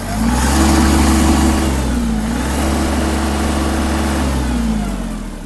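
A Kubota GL-261 tractor's diesel engine revs up and holds at high speed, loud and close, with a steady throbbing drone.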